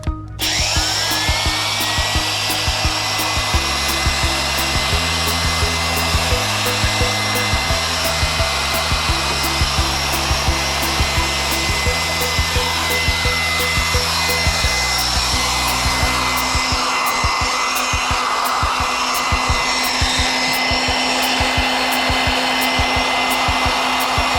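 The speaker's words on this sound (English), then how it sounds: "Now I'll go ahead and polish it." Continuous whirring of a power tool polishing a 350 crankshaft with a cork belt, steady and loud, shifting tone in stepped bands, with no talk.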